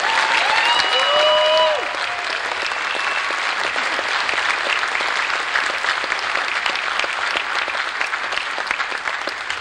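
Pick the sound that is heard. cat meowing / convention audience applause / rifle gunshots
convention audience applause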